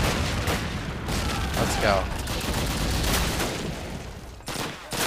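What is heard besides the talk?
machine gun fire in Call of Duty video game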